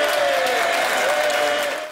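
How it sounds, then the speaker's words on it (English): Sustained applause from MPs in the House of Commons chamber, a dense continuous patter of many hands clapping that stays loud throughout and tapers slightly at the end. "Applause is against Commons rules, but opposition MPs couldn't help themselves."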